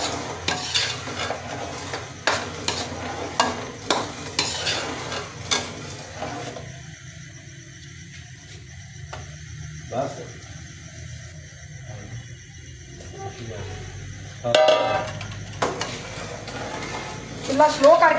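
Flax seeds and gram flour roast in ghee on a low flame while being stirred, with repeated scraping strokes over a soft sizzle that quiets midway, then a few louder utensil knocks near the end.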